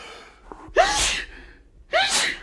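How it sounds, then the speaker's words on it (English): Two sharp sneezes, the second about a second after the first, each a loud close burst with a hissing release, alone with no talking. "I didn't mean to sneeze"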